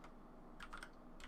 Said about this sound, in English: we're gonna type in a description here